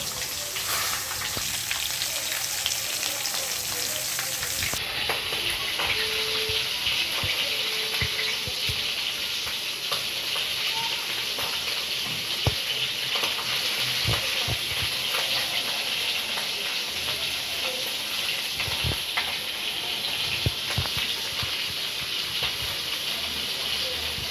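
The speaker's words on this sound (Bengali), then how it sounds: "মাছের কাটাগুলো ভেজে নেব মাছের কাটাগুলো ছেড়ে দিয়েছি" Fish bones fry in oil in a home kitchen, giving a constant broad sizzling hiss with occasional crackles and knocks that holds steady for the whole stretch.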